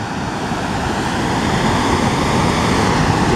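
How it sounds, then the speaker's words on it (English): Montour Falls, a waterfall in New York State swollen after heavy rain, a loud steady broadband roar of rushing water heard close by, unbroken and without voices. "This is the most magnificent waterfall I have ever seen in the state of New York."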